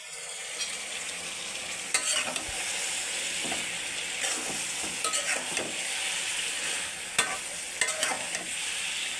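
Vegetables with dried fish, including aubergine and beans, sizzle steadily in a pan while a spoon scrapes and stirs in irregular bursts, close and moderately loud, with no talking.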